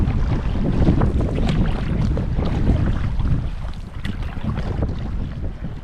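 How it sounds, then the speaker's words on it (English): Canoe with a wind sail cruising across wind-blown waves on a wilderness lake in the Boundary Waters, with continuous rushing wind buffeting and water splashing against the hull. "We are cruising with this wind sail. I'm just paddling real easy and kind of ruddering."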